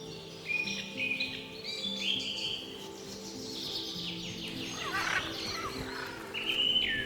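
Parrots gather at a clay lick in the wild, a noisy chorus of squawks and chattering calls overlapping at moderate distance, with louder shrieks near the end and no talk.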